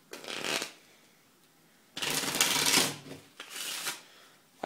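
A deck of playing cards is riffled and shuffled by hand in three separate bursts of crisp flapping, the middle one longest, with short pauses between them.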